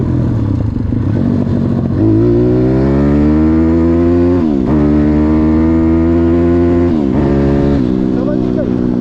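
A Zongshen 180 motorcycle engine is held wide open in fourth gear on a test run. A loud, close roar climbs in pitch and breaks off with short dips as the rider shifts and lifts the throttle.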